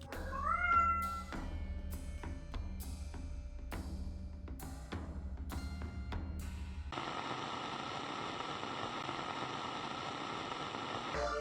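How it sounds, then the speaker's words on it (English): Vega the cat meows a few times near the start over a moody musical backdrop of struck tones, then a steady hiss of static fills the rest. "with me as always is Vega the cat."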